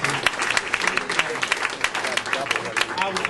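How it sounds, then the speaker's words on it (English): A political rally crowd claps for itself in a brief, lively burst of applause mixed with scattered voices and chatter. "Give yourselves a round of applause."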